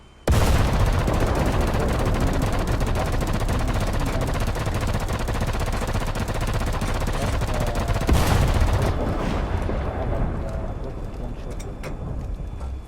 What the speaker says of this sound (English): I press R2 I can shoot with everything, with my machine guns and with my main caliber guns.